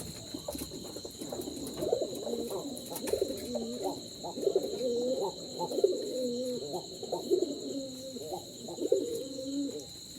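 Jalali pigeons coo steadily in a low, throaty rhythm, several birds overlapping close by in a basket coop, with a faint constant hum in the background.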